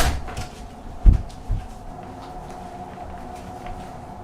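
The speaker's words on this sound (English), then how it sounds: "I'll get the door for you." A door is opened and then closed, giving two dull thumps close together over a low steady room hum, with no talking.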